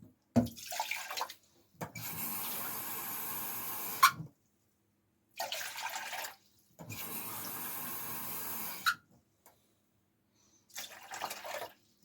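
Water pours from a tap into a pot for broth in a home kitchen, several steady rushing bursts of a few seconds each separated by silent gaps.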